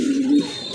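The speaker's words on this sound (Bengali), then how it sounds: "অনেক বড় সাইজের এক জোড়া রেড চেকার কবুতর" A large red checker pigeon gives a single short, close cooing call, clear and alone.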